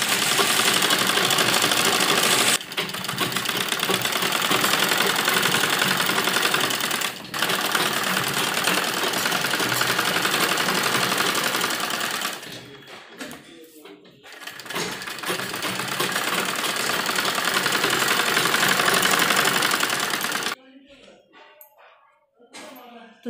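Electric sewing machine stitching a net blouse for an embroidered lehenga: a loud, steady, fast mechanical whirring that runs in long stretches, stops briefly, and ends in quieter handling noise, with talk over parts of it.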